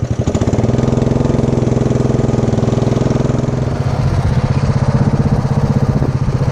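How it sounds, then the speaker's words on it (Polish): A lawn mower engine runs steadily and loudly while cutting grass, holding a continuous droning rumble with slight surges and no talk over it. "Także jadę kosić."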